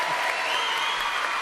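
An audience claps in steady, dense applause, close and continuous throughout a short burst with no pauses.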